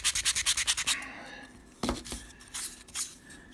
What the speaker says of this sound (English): A little sanding block.